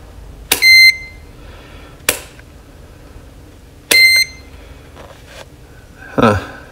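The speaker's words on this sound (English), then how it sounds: "It did come with batteries, and it has a little beep." A newly unboxed handheld multimeter set to its continuity range gives short, sharp beeps, two clear bursts about three seconds apart with fainter clicks between, heard close up.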